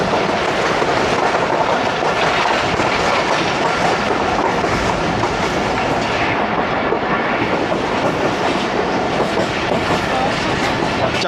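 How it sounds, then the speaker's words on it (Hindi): Awam Express passenger train running through Chaklala station in Rawalpindi without stopping, a loud continuous rumble with steady clickety-clack of wheels on rail joints throughout. "चकलाला पर स्टॉप नहीं है अवाम एक्सप्रेस का, तो यहाँ से रन थ्रू करेगी।"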